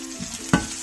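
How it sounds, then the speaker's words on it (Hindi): Chopped onion with chillies and cumin fries in mustard oil, a brief close sizzle punctuated by one sharp scraping stir of the spoon against the pan. "प्याज को अच्छे से फ्राई कीजिए।"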